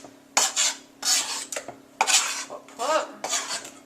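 Metal spoon scraping and scooping chunky chopped babaganoush into a bowl, several close scrapes and clinks in bursts, no talk.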